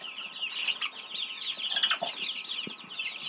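A flock of young chickens and roosters clucks and chatters continuously at close range, with overlapping soft calls and a few sharper squawks.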